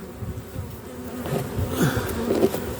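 A dense swarm of honeybees buzzes close by at a hive entrance, a constant droning hum that swells slightly as individual bees pass near.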